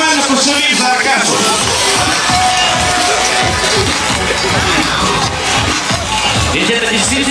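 A large crowd at a drift racing motorsport event cheers and roars continuously and loudly for a driver, a dense wall of voices and noise with no pause.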